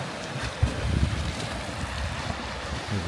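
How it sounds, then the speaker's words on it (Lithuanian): Strong wind in Nida, Lithuania buffets the microphone in a continuous roar, with gusty rumbling bursts throughout. "Vėjas"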